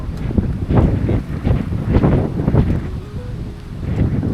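Strong wind at sea buffets the microphone in loud, rumbling gusts that swell and fade repeatedly, with no voices.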